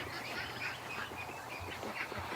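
Ducks quacking outdoors on a humid night, a flock calling repeatedly at a moderate distance, fairly faint against background noise.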